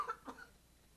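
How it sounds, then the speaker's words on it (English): A single short cough, fairly close, during a conference talk, followed by quiet room tone. "Hang on, got a cough again."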